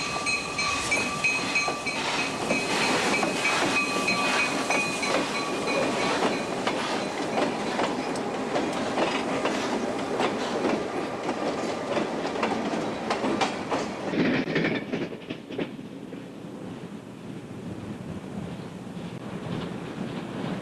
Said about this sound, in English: Apollo 1, the hot piggyback run-through train with the Norfolk and Western, has a clear signal at Niagara Junction